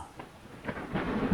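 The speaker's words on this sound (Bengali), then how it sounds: "বজ্রপাত" A thunder sound effect for a Bengali horror audio story: a short, low, rolling rumble that swells louder toward the end, heard alone.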